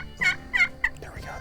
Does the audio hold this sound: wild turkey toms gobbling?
yes